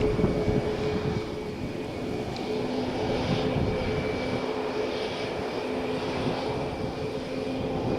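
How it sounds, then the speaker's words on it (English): TUI airliner bound for Liège, Belgium at Malaga Airport on a stormy morning, producing a continuous mid-distance jet rumble with a thin steady whine on top, fairly even in loudness. "TUI flight to Liège in Belgium."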